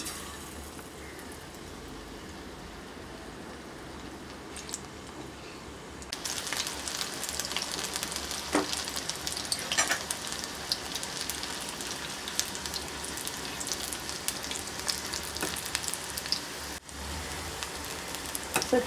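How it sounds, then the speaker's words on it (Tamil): Batter-coated snake gourd pieces deep frying in oil: a quiet hiss jumps to a louder, busy crackling sizzle after the pieces go in and keeps bubbling steadily, close by, with no voices. "ஸோ இதை வந்து இப்போ எண்ணெயில் போட்டு பொரித்து எடுக்க போகிறேன்"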